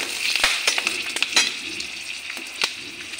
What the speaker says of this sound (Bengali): তেলটা গরম হয়ে গেছে। লং, এলাচি, দারচিনি, পাঁচফোড়ন, গোটা জিরা, ওগুলো দিয়ে দিলাম।